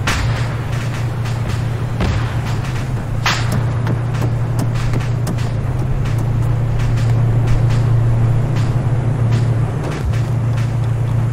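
A large tank's heavy engine in Arma 3 rumbles steadily at a low pitch throughout, with faint scattered thuds and clanks over the continuous drone.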